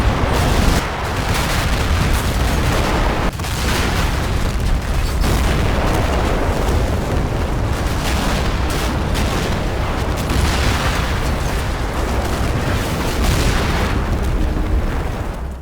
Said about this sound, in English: So I order my company to open fire on the village to see if that draws a response.